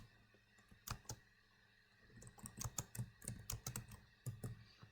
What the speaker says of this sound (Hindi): लेट अस से सिंपल एडिशन वाला प्रोग्राम मैं यहाँ पर टाइप करता हूँ